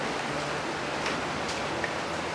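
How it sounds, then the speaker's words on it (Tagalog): Heavy rain pours steadily in a dense, even hiss with no break, close and moderately loud throughout. "Mga kababayan, malakas ang ulan."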